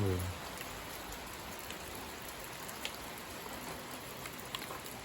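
Steady late-spring rain falls in a garden throughout, a soft even hiss with occasional louder drops, fairly quiet and continuous.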